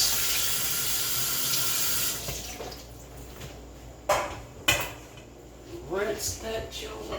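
A kitchen tap runs steadily while something is rinsed during cooking, a continuous close rush of water that stops about two seconds in, followed by a few clinks of dishes and cutlery and brief talk.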